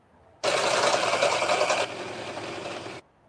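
A home sewing machine runs a short top stitch on fabric, a steady loud whirring burst of about two and a half seconds that drops slightly in pitch partway through before stopping abruptly.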